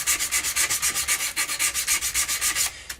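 Stainless steel guitar frets being sanded with 240 grit sandpaper in quick, steady back-and-forth rubbing strokes, close and crisp, about six strokes per second with no talking.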